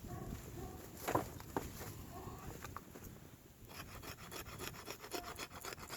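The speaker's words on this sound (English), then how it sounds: "Let's try it for some scraping." The spine of a Fallkniven Tor knife scrapes along wood in quiet, rasping strokes, a few sharper scrapes early on followed by a quicker run of rhythmic rubbing, all faint and close.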